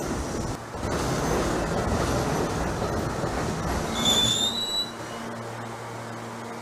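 NYC subway A train from Trainz Simulator 2012 running along the track, a steady rumbling rail roar with a high wheel squeal near the middle before the noise settles lower.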